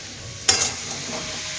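Salt and turmeric spices stirred in a hot pan, a sharp scrape of the spoon followed by a continuous soft sizzle and shuffling as the mixture is moved around, close and fairly loud.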